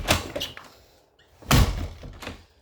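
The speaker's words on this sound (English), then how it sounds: "There's no need to slam doors." A door slams shut loudly indoors, followed by another heavy slam and a brief echoing rumble, with no one speaking.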